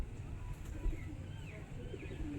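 Pet pigeons coo softly and steadily, a low murmuring burble held close by with a faint chirp or two over a hum of background noise.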